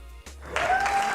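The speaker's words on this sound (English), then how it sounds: "I think you deserve a round of applause." A brief round of applause during a live painting session, a steady burst of clapping that starts after a short pause and holds until the end, with a faint tone underneath.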